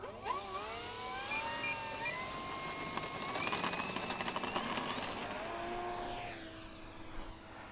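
An Avios Spitfire Mk Vb RC model plane on a 6S battery takes off, its electric motor whining up in rising pitch as it climbs away, then settling into a steady, slightly fading drone.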